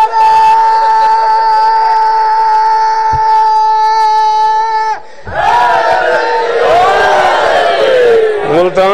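At an outdoor religious gathering in Jambar Khurd, a long sustained note rings out for about five seconds. A large crowd then bursts into loud shouted slogans in unison.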